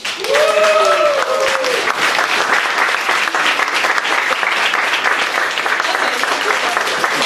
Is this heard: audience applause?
yes